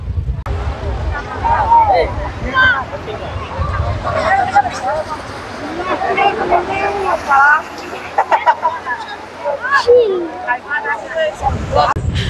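Cold wind gusts over sea waves at Chandipur beach, with a steady broad rush of surf and wind buffeting the microphone, and voices talking throughout.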